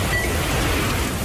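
Heavy rain and strong wind from a storm hitting the northeast roar as dense, steady broadband noise, loud and unbroken, with no voices.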